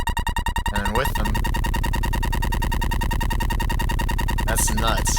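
FL Studio sampler bass loop with heavy effects, a dense distorted buzzing tone cycling continuously and loudly, with brief gritty sweeps near the start and end.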